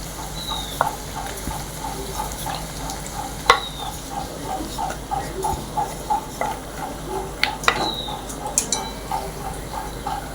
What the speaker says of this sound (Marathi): छान असा ब्राऊन कलर येईपर्यंत पुरी भाजून घ्यायची